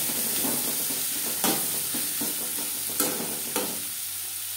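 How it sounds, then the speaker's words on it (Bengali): Chopped onions fry in oil, a continuous close sizzle broken by several soft scraping stirs, with no voices. "পেঁয়াজ হালকা করে ভেজে নেব"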